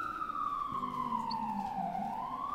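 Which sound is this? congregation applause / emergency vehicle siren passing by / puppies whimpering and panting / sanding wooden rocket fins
emergency vehicle siren passing by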